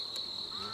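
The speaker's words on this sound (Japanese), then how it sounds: "コオロギの音聞こえる。" A cricket chirps in a steady, continuous high trill that sounds close and clear, heard alone without voices.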